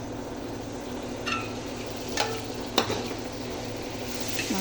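Ingredients sauté in a pan while preparing biryani. A low, continuous sizzle sounds close by, with a few sharp clinks and scrapes from a stirring utensil.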